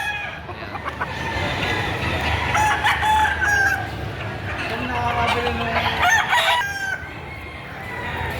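A Boston Sweater bloodline gamecock rooster, about eight months old, crows at a Batangas poultry market amid other fowl clucking and background chatter, with several overlapping crows of moderate loudness.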